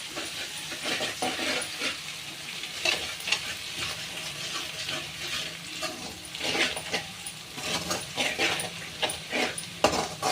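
Ginger garlic paste frying in hot oil tempering for chicken curry, a steady close sizzle and hiss broken by repeated scraping stirs of a spoon in the pan, with no talking.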